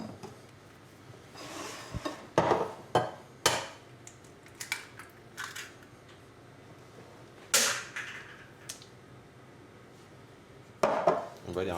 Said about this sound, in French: on va venir le fouetter avec le sucre